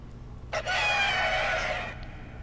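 A cockatrice monster in The Witcher 3: Wild Hunt lets out a single loud, rooster-like shrieking crow lasting about a second and a half, sharp at onset and close, over a low game ambience.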